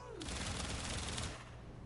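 Rapid sustained automatic gunfire in Warframe: a fast stream of shots held for just over a second at fairly low level, then cutting off into quieter game ambience.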